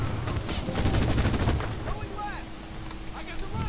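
Rapid machine gun bursts in the video game Medal of Honor, dense and loud for the first second and a half, then sparser shots with whistling and battle noise beneath.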